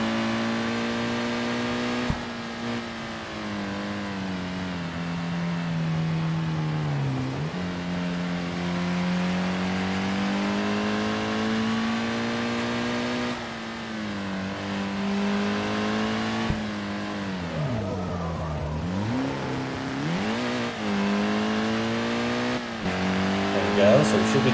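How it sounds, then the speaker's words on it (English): Four-wheel-drive car drifting in Assetto Corsa, its engine droning loud and steady with pitch dips and surges as the revs shift through the slide, a voice talking over it throughout. "Yeah, I'm drifting. I think this is a four-wheel drive automobile"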